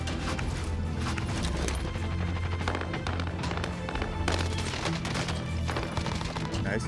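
Gunfire in the shooter game Warzone: dense, continuous bursts of shots and rapid fire that fill the whole stretch at a steady loud level, with a voice faintly mixed in.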